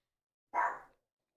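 A single short dog bark, faint and somewhat distant, lands alone in otherwise silent surroundings.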